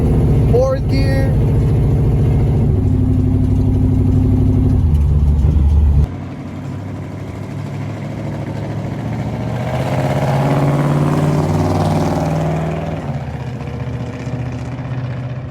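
A car engine on a SEMA 2019 build pulls through fourth gear, a steady mid-pitched drone that drops off, then swells again as revs rise, with someone speaking over it.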